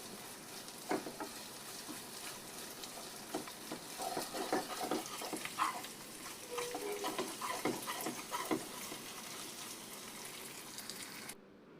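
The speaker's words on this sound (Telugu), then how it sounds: "పచ్చివాసన అంతా పోయేంత వరకు అల్లం వెల్లుల్లి పేస్ట్ ఫ్రై చేసుకోండి విత్ ఆనియన్స్" Ginger garlic paste and onions fry on a high flame for egg dum biryani, giving a continuous soft sizzle with scattered stirring scrapes and crackles, fairly faint, with no voices, ending abruptly.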